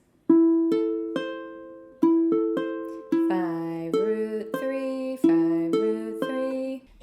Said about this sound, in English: And then a second inversion minor triad sounds like this.